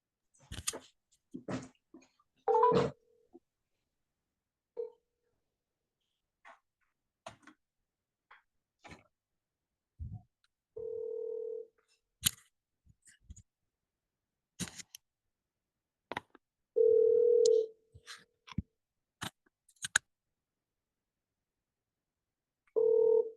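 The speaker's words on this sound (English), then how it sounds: "So we're going to shoot Gene a call" A phone call is dialed, with short bursts of ringback tone repeating at intervals among scattered clicks and taps, the line otherwise quiet.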